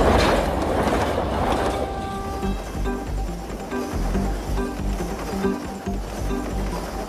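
The Gulflander train in Queensland rumbles along the rails, wheels clacking in an uneven rhythm with metallic squeals and ringing tones over a deep, steady roll.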